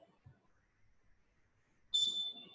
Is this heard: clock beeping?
yes